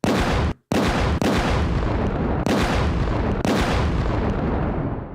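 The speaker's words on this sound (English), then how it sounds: "Gunshot salute." A gunshot salute: a rapid series of loud, booming reports fired one after another, each blast sharp and heavy with a brief silent gap between the first two, the volleys rolling into one another.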